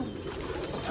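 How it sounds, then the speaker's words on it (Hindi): Pigeons coo in a short burst of soft, throaty murmuring, close and moderately loud, with no voices. "ये कितने कबूतर हैं यहाँ पे"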